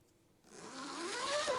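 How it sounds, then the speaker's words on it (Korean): A tent zipper is drawn down slowly from outside during solo camping, starting after a short quiet moment and growing into a close, scratchy rasp that continues steadily to the end. "지퍼가 내려가기 시작했습니다."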